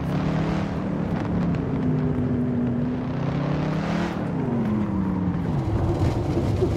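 Car engine in the Assetto Corsa driving game on a free roam map, a steady loud drone with rising and falling revs and a noticeable pitch shift midway, no talk.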